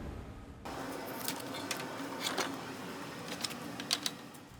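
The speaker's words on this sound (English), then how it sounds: "we got these all burned out on the Langmuir Systems Crossfire Pro plasma table" A Langmuir Systems Crossfire Pro plasma table cuts steel plates with a steady, fairly quiet hiss and hum, broken by a few faint clicks and ticks.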